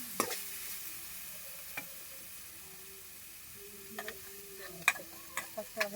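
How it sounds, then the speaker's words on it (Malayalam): A spoon stirs ground coconut paste with turmeric and cumin into banana stem thoran in a pan, giving intermittent scraping clicks and knocks over a faint, soft sizzle. "നമുക്ക് ഇതിനകത്തോട്ട് അരപ്പിട്ട് കൊടുക്കാം."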